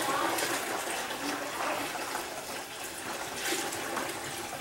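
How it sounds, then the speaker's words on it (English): Homemade wine liquid is poured slowly back into a bucket, a continuous rushing, splashing pour that holds fairly steady and close throughout. "I'm going to slowly dump it back into the bucket we start with"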